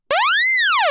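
A morphing Omnisphere synth sound set at minimum mod wheel: one loud, bright tone that glides smoothly up in pitch and then back down like a springy boing, heard alone for about a second.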